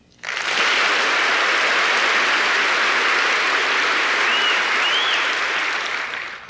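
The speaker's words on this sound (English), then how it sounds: "Let's get a round of applause in it, too." A round of applause from the audience in Davies Symphony Hall, San Francisco, starting abruptly, holding full and even for several seconds, then tapering off at the close.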